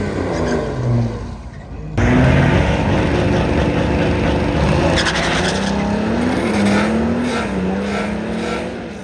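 A diesel grocery-getter car drives along with a steady, loud engine and road drone that holds after a short drop near the start, with no voices over it.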